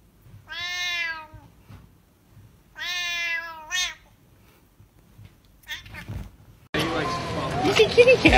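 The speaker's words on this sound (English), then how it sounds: "He's a kitty" A cat meows twice in clear, drawn-out calls close to the mic, followed by a short squeak, brief speech and then a burst of loud broadband noise.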